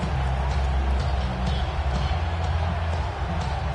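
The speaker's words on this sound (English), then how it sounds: "This crowd turning up the decibel level." A stadium crowd in the Madden 27 football video game roars in a steady, dense wash of cheering that holds at a constant loud level throughout, with no distinct voices standing out.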